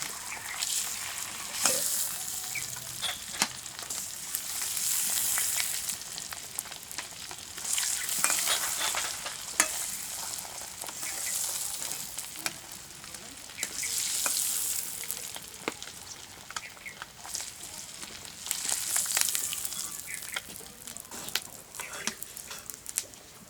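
Dried chillies fry in hot oil in a home kitchen, a steady crackling sizzle that swells in recurring bursts as they are stirred, with occasional sharp pops and scrapes close by.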